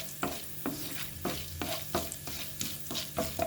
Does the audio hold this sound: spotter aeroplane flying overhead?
no